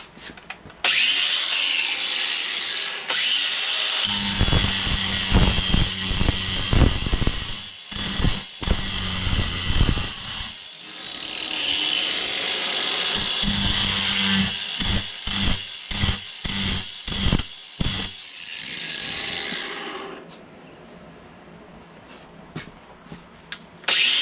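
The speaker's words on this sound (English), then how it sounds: "let's grind this flat" Grinder working metal flat on a concrete floor for a mini bike build, a loud harsh grinding that runs in long bursts broken by frequent brief pauses and restarts, heard up close.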